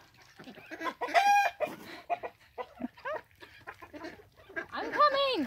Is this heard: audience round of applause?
no